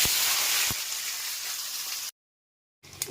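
Chopped onions, about 500 grams, hit hot oil for Bengali mutton kosha with a loud, steady broadband sizzle that runs for about two seconds, then cuts to silence before the frying briefly resumes.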